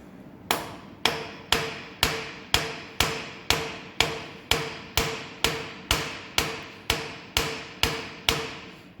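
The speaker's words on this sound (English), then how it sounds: "The method is to tap the vise slightly on its heel" Copper and rawhide mallet tapping the heel of a steel milling vise, a steady series of about seventeen sharp, close metallic knocks spaced roughly half a second apart, each with a short ringing decay.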